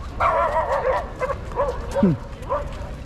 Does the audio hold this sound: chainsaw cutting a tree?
no